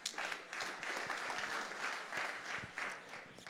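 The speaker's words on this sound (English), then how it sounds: "Let's give him a round of applause." Audience applause for a startup presenter at a pitch event, a steady spread of many hands clapping with small swells, moderately distant and unbroken throughout.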